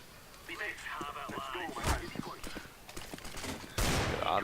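An automatic shotgun fires in a video game, with bursts of rapid blasts at a moderate level in the middle and a heavier boom near the end.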